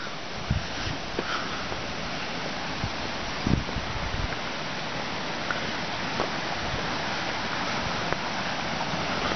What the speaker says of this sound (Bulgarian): И се чуват водопадите малко по-нататък.